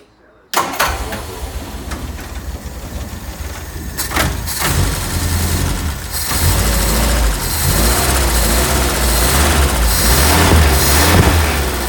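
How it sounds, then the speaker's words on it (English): A 1968 Triumph Herald engine cranks and catches after a moment of silence, then settles into a steady, loud idle with a low rumble and a couple of brief revs, close up. "I'll start it for you now so that you can hear it."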